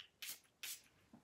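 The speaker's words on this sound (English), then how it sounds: "And then you can spray it in your mask." A spray bottle of homemade Epsom salt mask spray is pumped twice, giving two short, close hissing bursts of mist about half a second apart in an otherwise quiet room.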